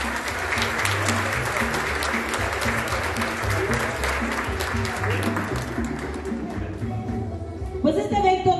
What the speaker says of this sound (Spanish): el aplauso para todos ustedes por estar aquí esta tarde